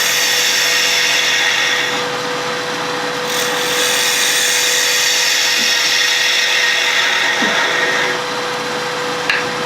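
A wood lathe spins a small spinning top while a tool rides across it, giving a continuous close whirring hum with a steady tone and faint scraping, no talk.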